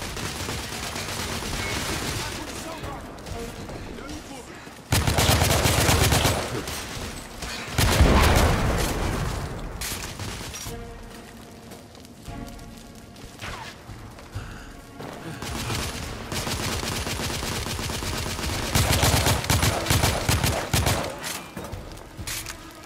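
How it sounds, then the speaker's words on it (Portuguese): Gunfire in the video game The Order 1886, heavy bursts of shots and booms that come in loud waves across the stretch, with dense clattering volleys, some quieter gaps and a busy combat background. "tomei um tiro de 12 na cara"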